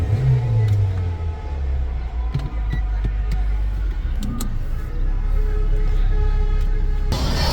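A car engine starts and revs, giving a loud, steady low rumble throughout with a sharper rise right at the end.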